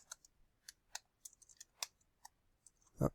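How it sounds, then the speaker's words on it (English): Typing on a computer keyboard: quiet, irregular key clicks in short bursts, close up, ending with a heavier thump. "Oops, a little trouble typing here."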